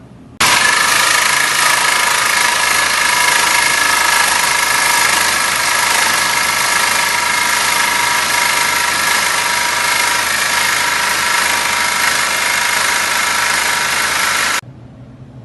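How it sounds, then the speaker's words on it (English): A Sawzall reciprocating saw fitted with a Lennox carbide blade cuts through metal in one loud, continuous harsh buzz of about fourteen seconds, close by and with no talk. "so I'm going to use my Sawzall, and I got this carbide blade in here which was made by Lennox."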